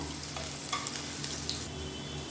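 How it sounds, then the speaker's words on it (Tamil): Garlic sautéing in a pan for a black chickpea, brinjal and drumstick kuzhambu gives a steady close sizzle with a few light stirring scrapes and clinks, and no voices. "பூண்டு சேர்த்து நல்லா வதக்கியாச்சு"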